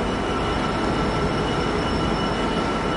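Train passing through Manchester Oxford Road station in the rain, a loud, steady rolling rumble with a faint high whine, continuous and close throughout, no voices.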